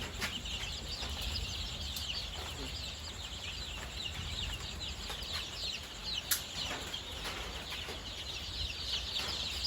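Chickens in a backyard coop at night, with soft scattered clucks and rustling over a steady hiss of background noise. All faint and distant, with a few brief louder peaks and a low voice now and then.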